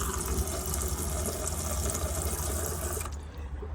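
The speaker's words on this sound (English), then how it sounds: "then you have your water coming out through your taps" Tap water runs steadily from the faucets of an Autosleeper Executive campervan, fed by the onboard pump, a close continuous gush that cuts off abruptly near the end.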